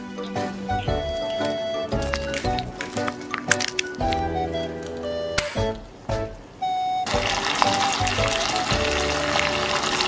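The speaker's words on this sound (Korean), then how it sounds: "하울의 계란 후라이 따라해 볼게요" An egg fries in a pan beside thick bacon, with squishy crackling and sizzle mixed with clinks and background music, the sizzle growing fuller and louder toward the end.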